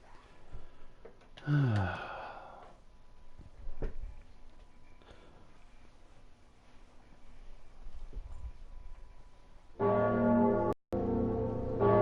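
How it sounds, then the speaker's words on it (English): A bell rings in Dark Souls 3, a loud, rich tolling tone that rises late in the clip after quieter game ambience and a brief breathy vocal sound. "Bell. We know what bells do."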